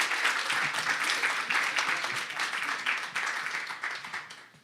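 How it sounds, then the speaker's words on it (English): An evening talk audience claps to welcome a speaker to the podium, a close crowd of steady applause that gradually thins and fades out over a few seconds. "Let's give him a big round of applause and welcome up to the podium."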